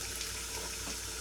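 Water gushes from a tap inside a Mercedes 1017A camper van, a steady close hiss of running water throughout, without talking.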